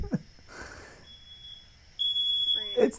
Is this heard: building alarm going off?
yes